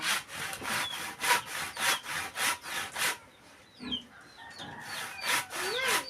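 Steady back-and-forth strokes of a hand saw cutting wood, rhythmic and close, then pausing while chickens cluck and birds chirp nearby.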